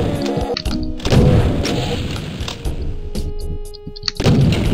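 Revenant rockets in Doom TNT Evilution on Map03 boom loudly in quick succession, with heavy blasts and crashes packed over a steady mechanical hum and a few sharp gaps between hits.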